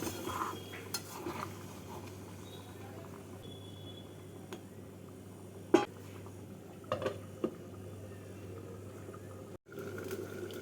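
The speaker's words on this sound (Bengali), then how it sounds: "জল দিয়ে মাছটাকে নাড়াচাড়া করে দু মিনিটের জন্য ঢাকা দিয়ে দেব" Prawn vindaloo is stirred with water in a pan, with faint scrapes and clinks of a utensil against the metal over a low steady kitchen hum. A few sharper taps stand out, and no one talks.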